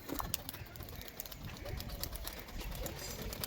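Pigeons coo softly amid outdoor ambience around a pigeon loft, low murmuring calls that are faint and distant, with scattered rustles and bird sounds.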